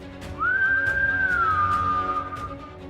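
A single long whistled tone, steady then sliding slightly lower, clear and close over a quiet background hum.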